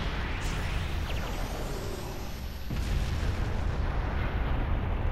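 A big explosion in the game Naruto Shippuden Ultimate Ninja Storm 4 fills the mix with a loud, dense roaring blast that dips briefly and then surges again.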